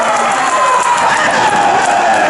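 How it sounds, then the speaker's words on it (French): Spectators at a medieval knights-versus-barbarians competition in Angers cheering and clapping for an axe-wielding barbarian warrior, a loud continuous roar of crowd noise throughout. "On applaudit bien fort la guerrière barbare, armée de sa hache, on l'applaudit bien fort."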